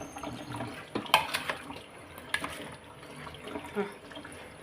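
Water from a tap running and splashing into a cooking pot while potatoes with chicken, onion and tomato are prepared for oven roasting in a bag, with clinks of dishes and a faint voice underneath.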